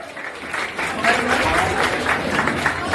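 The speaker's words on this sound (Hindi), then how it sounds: "जोरदार तालियां उनके लिए" An audience at an Indian school's foundation day and birthday celebration gives loud, sustained applause, a dense, even roar of clapping close by that fills the whole moment.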